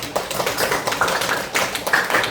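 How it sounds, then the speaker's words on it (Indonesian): Pupils in a classroom clap their hands together, a quick irregular patter of many close, moderately loud claps sustained throughout. "Tepuk tangan dulu"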